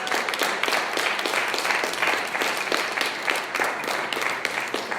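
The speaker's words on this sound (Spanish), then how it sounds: "Dale, le da palmas a Jesucristo" A church congregation applauds Jesus Christ during a Spanish-language sermon, with dense, steady clapping from many hands filling the space continuously and loudly.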